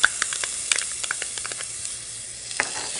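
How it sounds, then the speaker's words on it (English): Diced onion and minced garlic sauté quietly in a pan, a soft steady sizzle broken by light clicks and taps of stirring, with no voices. "I saute it until the onions are soft, but not yet browned."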